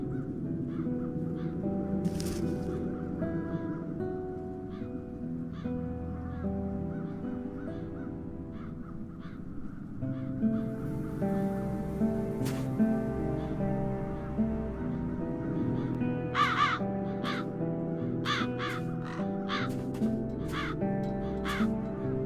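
Crows caw over and over in the video game The Dark Eye: Chains of Satinav, harsh repeated calls from several birds above a steady game ambience, loud and near throughout.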